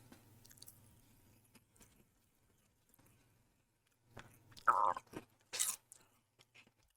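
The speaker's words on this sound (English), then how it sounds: "I'm not sure if my chewing is coming through on the show" A podcast host chews food close to the microphone, with scattered soft wet mouth clicks followed by a few louder, sharper chewing and smacking bursts near the end, with no talking.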